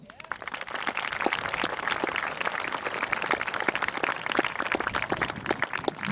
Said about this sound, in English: Would you join me in appreciation with applause, please?